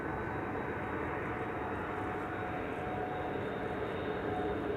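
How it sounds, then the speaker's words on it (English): A Turkish Airlines Airbus A350 arriving at Schiphol, a steady broadband jet roar that holds evenly throughout at moderate distance, with a faint thin whine above it and no voices. "We have Turkish flight 1951, an A350, flying in on 36 right"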